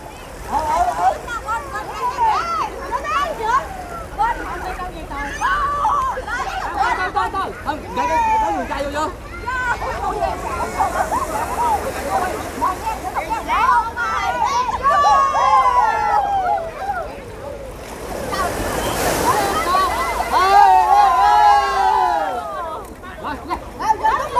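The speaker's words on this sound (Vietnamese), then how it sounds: "Biển Đà Lạt hôm nay rất đông nha quý vị." A crowded beach at Đại Lãnh, with bathers in shallow water, fills the air with a broad babble of voices and distant splashing and surf, while someone talks prominently over the scene.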